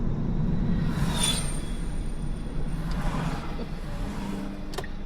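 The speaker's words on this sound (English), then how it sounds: "Your car sounds like a spaceship." A passing car's engine and road noise rumble steadily, swelling and whooshing briefly, with a faint higher whine over the low drone.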